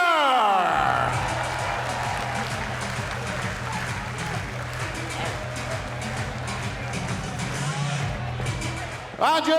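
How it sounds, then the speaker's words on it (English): A crowd at a darts youth final applauds and cheers a finalist, a sustained wash of clapping and whoops that stays loud throughout before cutting off abruptly at the end. "Please give a massive round of applause for your finalist, Kai"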